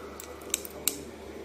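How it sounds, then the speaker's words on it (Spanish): Small scissors trimming cardboard strips, two or three sharp close snips spaced about a third of a second apart over a quiet room background. "Ahora con una tijerita ya las voy igualando."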